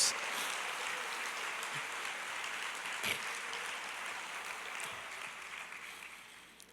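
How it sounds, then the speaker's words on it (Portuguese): A church congregation applauds, a faint, steady wash of clapping that holds for several seconds before slowly thinning out. "Aplauda ao Senhor, glorifique ao Rei dos Reis."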